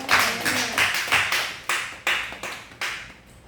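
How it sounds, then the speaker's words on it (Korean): A church congregation clapping together in a slow, steady rhythm, about nine or ten distinct hand claps, close and fairly loud, with each clap ringing briefly in the room. "하나님께 영광의 박수 한번 드리겠습니다."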